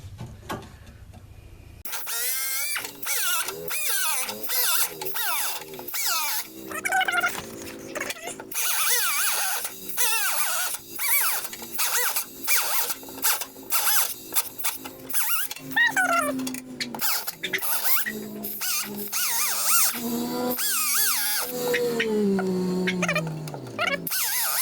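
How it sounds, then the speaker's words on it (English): A cutoff wheel bites into a car quarter panel with a harsh, continuous grinding screech that wavers in pitch and intensity for about twenty seconds, loud and close. "I just prefer to use, you know, the cutoff wheel"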